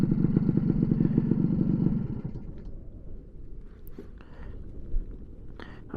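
A Lambretta Li150 scooter engine runs loud and close for about two seconds, then cuts out, leaving gusty wind and faint rustling as the scooter is parked outdoors in a breezy spot.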